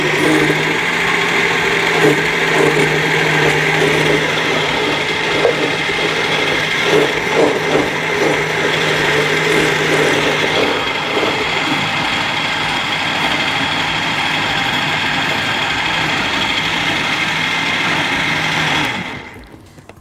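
A loud, steady motor whir of a blender running continuously while making creamy chocolate, with slight grinding variations, before stopping abruptly at the end.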